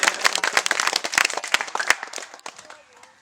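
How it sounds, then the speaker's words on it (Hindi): Crowd applause for MLA Dashni Devi at a political gathering, a burst of brisk overlapping clapping from many hands, loud and close, thinning out and fading to a few scattered claps over the last second. "एक बार जोरदार ताली दशनी देवी विधायिका जी के लेल"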